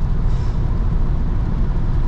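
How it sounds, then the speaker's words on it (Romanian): A 2019 Nissan Leaf electric car with 150 hp and a 40 kWh battery accelerating, heard from inside as a steady loud low rumble of road and cabin noise with no engine note. "Da, mașina chiar accelerează destul de bine"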